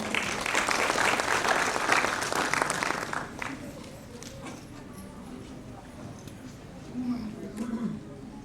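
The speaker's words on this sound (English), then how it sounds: "So please welcome Her Grace Mirabai Mataji with a big round of applause." An audience at a devotional gathering breaks into loud applause to welcome a presenter; the clapping fades after about three seconds, leaving quieter room sound and some faint talk.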